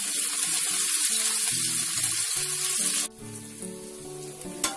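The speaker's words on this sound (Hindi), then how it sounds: "इनको पलटते हुए दोनों साइड से हम गोल्डन ब्राउन होने तक शैलो फ्राई करेंगे" Arbi (taro root) sticks shallow-fry in oil, turned until golden brown on both sides. A close, steady sizzle runs with intermittent clinks and tonal clatter, then drops suddenly to a quieter level near the end.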